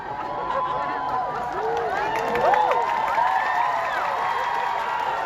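A mosque audience at a religious sermon in Masjid Agung Al-Falah, Tanah Bumbu, claps and cheers in a steady, dense wash of crowd noise, with scattered raised voices and shouts mixed in throughout.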